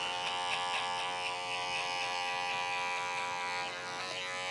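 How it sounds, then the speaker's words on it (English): An electric hair clipper cuts a side-part haircut, working the edges to blend out dark spots, giving a steady close-up electric buzz that hums on without a break, with no talking. "you kind of got to do a little bit more with the edges of your clipper to kind of get rid of those dark spots"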